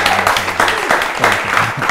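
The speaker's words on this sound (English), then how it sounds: "another round of applause for yourself" Studio audience applauding at the close of a televised talk show on child development, a steady dense clatter of clapping held at even loudness throughout, with faint voices mixed underneath.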